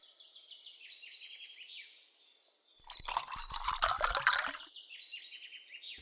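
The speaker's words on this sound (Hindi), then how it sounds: "कुएं से पानी निकाल रही थी" Water drawn from a village well splashes and pours for about a second and a half, loud and close, while birds chirp steadily throughout.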